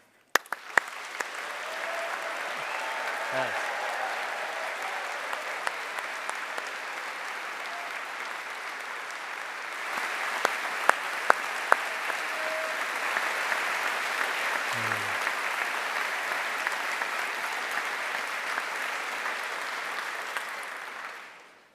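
Audience at a university summer graduation ceremony gives sustained applause for the graduates' supporters, a steady wash of clapping lasting over twenty seconds with a few sharper claps and a brief spoken word near the start.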